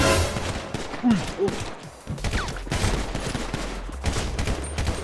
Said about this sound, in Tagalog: Ba't kayo pumuputok?